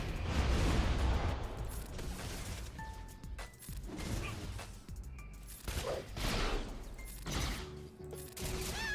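Rapid bursts of video game gunfire crackle in a loud, busy battle mix with impacts and clanking effects, continuous across the scene.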